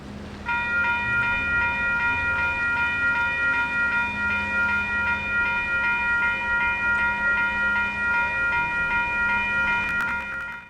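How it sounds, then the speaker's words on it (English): DSJ 4060, a clean 38-year-old diesel shunter locomotive in old Toll Rail livery, rolling through a level crossing in Waikato while a steady crossing bell rings loudly over its low engine rumble throughout. "Then it was DSJ 4060's turn to go through the crossing"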